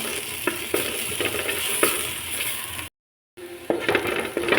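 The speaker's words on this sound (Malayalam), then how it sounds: "ഇതിലേക്ക് ഞാൻ കുറച്ച് കരിവേപ്പില ആഡ് ചെയ്യാണ്. നന്നായി ഇളക്കാം." Sliced onions and curry leaves fry in a pan with a bright, steady sizzle and scraping stirs, broken by a brief silent cut before the sizzling resumes.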